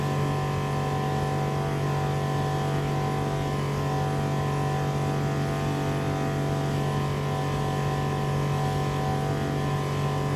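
A 3D Luking CNC machine running a program loaded from a pen drive produces a steady, unbroken motor drone with a humming tone, constant and fairly loud throughout, with no talking.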